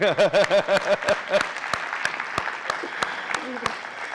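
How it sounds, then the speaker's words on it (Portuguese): Audience applause: a voice speaks briefly, then scattered individual claps ring out, sparse and fairly close, trailing off irregularly. "Vamos aplaudir Jesus então, gente."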